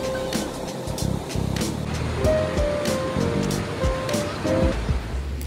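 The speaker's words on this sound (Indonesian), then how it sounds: "Walaupun sepi tapi suara airnya deras banget." Loud, steady rushing of a fast-flowing river or stream beside a family campsite at a campervan park in Sari Ater, Subang, a broad continuous roar filling the scene with faint background sounds.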